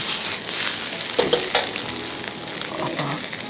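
Egg dropped into a hot frying pan for a Szechuan-style noodle dish, a steady sizzle with a few sharp crackles and spits, close and fairly loud, with no talk.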